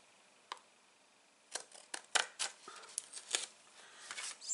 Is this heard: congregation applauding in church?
no